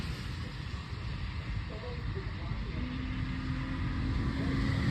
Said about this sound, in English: Cars are passing.